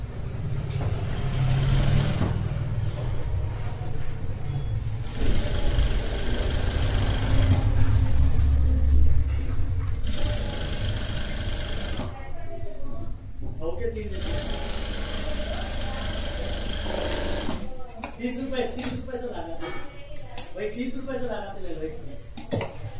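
Sewing machine stitching a halter neck blouse runs in close, loud bursts with a rapid mechanical whir, pausing between runs, while someone talks over and between the stitching.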